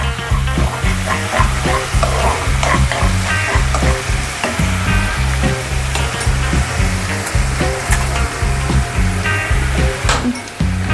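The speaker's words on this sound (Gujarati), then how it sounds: "લસણ જ્યાં સુધી થોડું ઘણું બ્રાઉન કલર ના પકડે ત્યાં સુધી તેને સાંતળી રાખજો।" Garlic sautéing in oil in a pan for spicy garlic potato dish, a loud, close, continuous frying crackle with rhythmic pulses from stirring and scattered sharp pops, with no talk.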